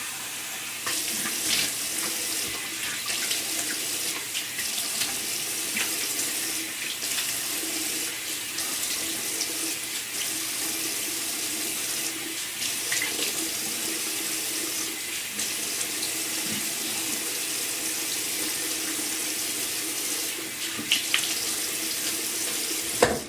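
Running water splashes steadily from a tap as cupped hands rinse shaving soap off the face, with small irregular splashes and a final louder slosh, no talking.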